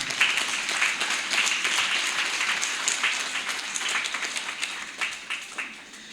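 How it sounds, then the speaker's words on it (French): Crowd applause for teachers at a school excellence ceremony, a dense steady patter of many hands clapping throughout, fading slightly toward the end. "Applaudissez pour les enseignants."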